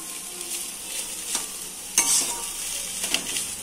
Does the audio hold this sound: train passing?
no